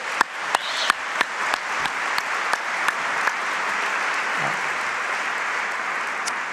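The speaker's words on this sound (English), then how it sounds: "One more round of applause for everybody." Audience applause at an award ceremony, a steady wash of many hands clapping with a few sharp, close individual claps standing out early on, holding loud and even throughout with no talking.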